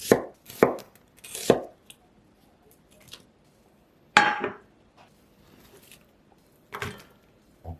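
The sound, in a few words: knife slicing half an onion into strips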